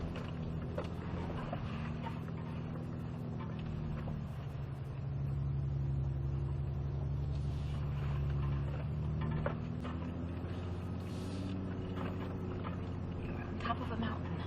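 Steady engine drone of a 2022 Ford Raptor crawling an off-road mountain trail under even throttle, heard from inside the cab as a continuous low hum beneath an instructor's voice.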